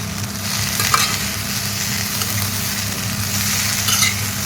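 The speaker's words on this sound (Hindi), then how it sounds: "यहाँ पर ये आलू गोभी की सब्ज़ी बन रही है" Aloo gobi, potato and cauliflower, stirred and fried in a pan, a continuous loud sizzle with a few scraping stirs and faint utensil clinks, heard alone up close.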